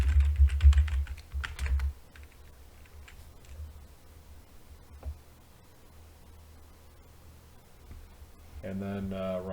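Quick bursts of typing on a computer keyboard as a sudo password is entered, close clicky keystrokes at first that fade to sparse taps, followed by a brief voice.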